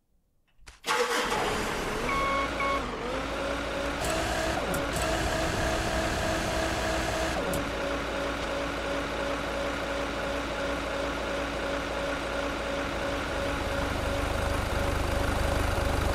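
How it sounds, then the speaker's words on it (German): A vehicle engine in the Beer Factory video game starts up and then idles at a steady drone for the rest of the clip, loud and unchanging, with a few brief clicks and tones along the way. "Kann er nicht seinen Motor wenigstens ausmachen?"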